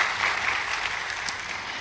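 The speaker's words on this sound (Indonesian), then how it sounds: "Tepuk tangan yang meriah buat Tuhan Yesus." Church congregation applauding during a service, a steady dense wash of clapping that holds at an even level for the whole short stretch with no voices over it.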